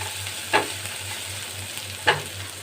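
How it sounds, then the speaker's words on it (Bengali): Ginger and green chili sizzle steadily in a frying pan, with two distinct scraping strokes of a spoon stirring them at close range. "আর কাঁচা লঙ্কা আমি এই আদাটাকে একটু নেড়ে নিচ্ছি"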